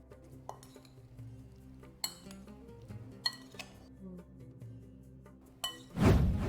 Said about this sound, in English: Mix the potatoes well.